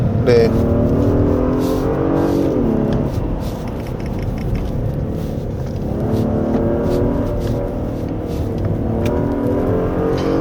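A 2024 Genesis G80 3.5 turbo AWD engine drones at high revs on a winding road, its sound blended with active sound design, rising and falling in pitch as it accelerates, with a voice talking over the loud, continuous motor.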